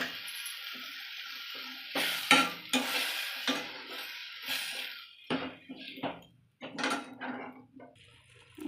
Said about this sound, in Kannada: ನಾನು ಹುಣಸೆ ರಸನ ಈರುಳ್ಳಿನ ಎಲ್ಲನೂ ಒಗ್ಗರಣೆ ಕೊಟ್ಟನಲ್ಲ ಅದನ್ನ ಚೆನ್ನಾಗಿ ಮಿಕ್ಸ್ ಮಾಡ್ಕೋಬೇಕು.